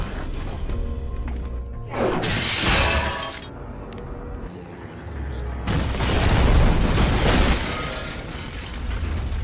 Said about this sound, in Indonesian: Ia juga meledakkan ruang kerja Zero dengan sebuah bom.